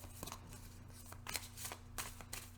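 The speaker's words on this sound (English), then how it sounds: "I've been pre-shuffling the cards." Tarot cards being shuffled by hand, heard as faint, soft bursts of papery riffling at irregular intervals over a steady low electrical hum, with no talk.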